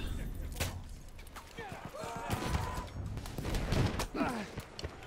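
Enemy machine gun fire in the video game Battlefield 1 crackles in scattered bursts amid battlefield noise, with someone talking over much of it.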